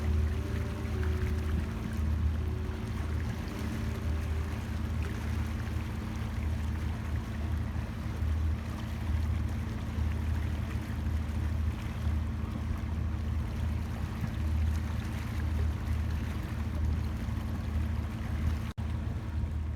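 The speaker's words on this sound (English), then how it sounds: "there was no wind, so the engines were on all three vessels" A steady low drone of the engines of three boats runs continuously over the Jalan Ayer Hagat River, with wind noise and no voices.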